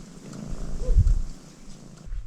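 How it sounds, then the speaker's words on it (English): A friendly little cat purrs close by in a short, soft rumbling burst that swells and fades, with faint background noise. "Super friendly little cat."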